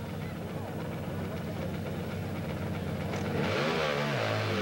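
A BSA motorcycle climbing at the Devils Staircase hill climb in 1990, its engine droning steadily at a distance and then rising in a rev near the end, with crowd noise and chatter around it.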